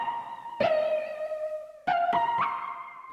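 Piano notes run through a flanger effect, each struck tone carrying a swirling, sweeping shimmer as it sustains, with a few sharp attacks spaced across a short phrase and no voices.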